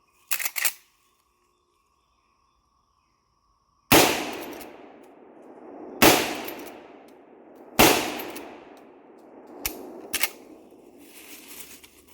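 A new 2024 Ruger Marlin 336 SBL lever-action rifle in .30-30 fires four loud, sharp shots spaced a couple of seconds apart, each with a decaying boom, followed by softer metallic clacks of the lever cycling.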